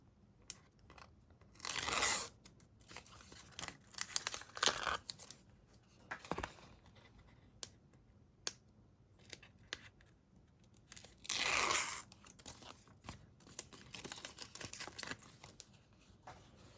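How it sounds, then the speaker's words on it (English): Tape peeled from a handmade mixed media card, heard as close, sharp tearing rips in several bursts with quiet pauses between them and no talking. "I'm gonna take the tape off."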